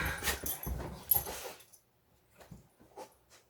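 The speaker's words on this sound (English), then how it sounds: "If you hear that, it's my dog." A dog makes brief, muffled noises, some rustling and whimpering sounds, followed by quieter faint sounds after a pause.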